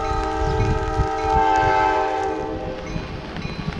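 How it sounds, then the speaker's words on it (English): A southbound Amtrak passenger train rolls into Old Orchard Beach station, Maine, with a sustained horn blast, steady rumbling and faint clatter of wheels, fairly close and loud. "Here comes the train, the southbound one."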